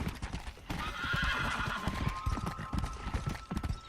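In the video game Red Dead Redemption, a horse being broken whinnies loudly over steady clip-clopping hooves, with a rhythmic galloping patter continuing throughout.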